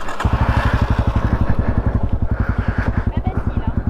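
A Raptor 250 quad bike engine pulls away with a loud, close, rapid thumping exhaust beat that stays steady and then pulses as the throttle varies, while a person talks over it.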